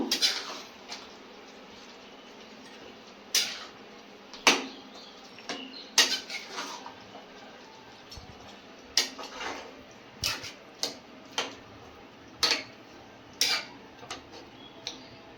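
A spoon scraping and clinking against a pot while onion chicken curry with chicken masala is stirred: irregular sharp taps and scrapes, some close and crisp, over a quiet background.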